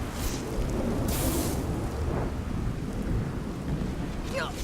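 Lightning and ice spells crash in Skyrim Special Edition on Xbox One, with a dense, continuous, thunderous rumble, crackling bursts and a hissing, rain-like wash throughout.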